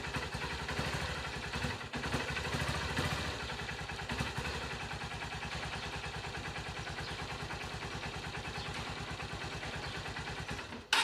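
A Honda CB 125 E motorcycle engine runs steadily at idle during carburetor air adjustment, a close, even mechanical putter that holds throughout with only slight fluctuations and a brief dip near the start.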